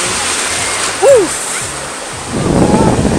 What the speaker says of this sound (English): There's some big waves, yeah?